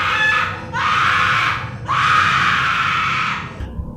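A woman screams in a horror-story scene, two long, loud, piercing wails one after the other, close and alone over a low background rumble.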